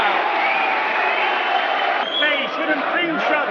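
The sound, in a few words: boxing crowd cheering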